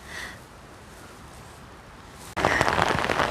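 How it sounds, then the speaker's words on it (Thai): Heavy rain suddenly intensifies outdoors during mushroom gathering, shifting from a faint patter to a loud, dense hiss of drops striking surfaces nearby. "ฝนตกหนักค่ะ"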